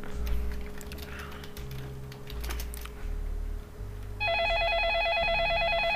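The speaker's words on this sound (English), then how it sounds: "Oh yeah, the phone has to ring as well." A telephone rings in the Façade game, a warbling electronic ring that starts partway through and holds steady and loud, following a stretch of quieter clicks and background tones.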